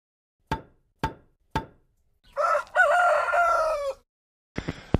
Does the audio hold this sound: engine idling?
no